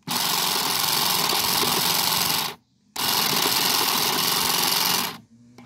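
Saker hedge trimmer running loud and close while cutting through thick rubber fuel line, a harsh buzzing motor in two long bursts separated by a short pause.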